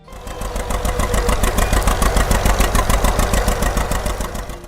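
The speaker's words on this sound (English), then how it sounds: "the John Deere Model A" A John Deere Model A tractor engine idles with a loud, steady, evenly pulsing chug that continues unbroken throughout.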